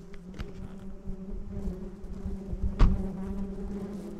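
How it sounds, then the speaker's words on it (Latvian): Bees buzzing outdoors, a continuous low droning hum near the listener, with a soft thump near the end and no talking. "Viss ar bitēm ir."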